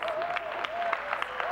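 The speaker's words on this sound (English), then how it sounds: "And the crowd's going crazy" A crowd at a horse event claps and cheers in a dense, steady wash of applause, with a higher tonal sound drifting through it.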